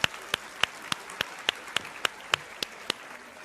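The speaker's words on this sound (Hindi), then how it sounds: "तालियों के साथ आप दोनों का बहुत बहुत स्वागत है।" A handful of sharp, evenly spaced claps ring out in a Hindi TV debate studio as two guests are welcomed, about a dozen crisp hits at a steady rhythm, fairly quiet with no talk over them.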